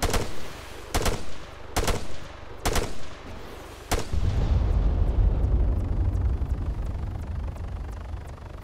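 Five sharp rifle shots in Arma 3, aimed at a vehicle's tires, crack out at roughly one-second intervals, followed by a sustained low rumble.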